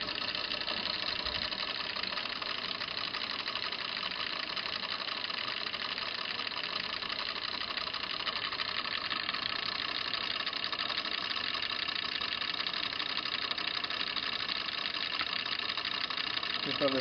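Two small electric motors in a working model whir and hum together at a steady pace, quiet and continuous from start to finish.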